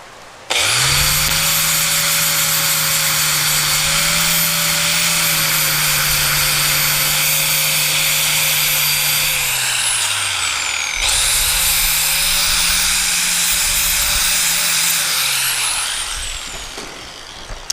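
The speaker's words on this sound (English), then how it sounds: "Well, I did not drill those very straight." A power drill runs loud and steady for about ten seconds on the transmission tunnel of a 1967 Chevelle, briefly stops, then drills again before winding down, close by with no voices.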